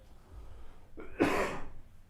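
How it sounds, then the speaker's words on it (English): A single rough cough bursts out after a moment of quiet, close and fairly loud. "Sorry, I got a little bit of a cough today."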